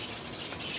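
Newly hatched chicks chirping in a steady, continuous stream of high peeps, close and fairly faint, with no voices.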